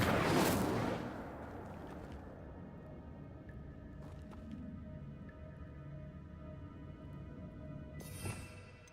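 An Incendio fire spell is cast in Hogwarts Legacy: a loud, rushing burst at the start fades into a low, rumbling crackle, and a brief sharp flare comes near the end.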